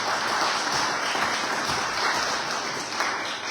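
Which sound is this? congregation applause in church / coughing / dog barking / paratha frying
congregation applause in church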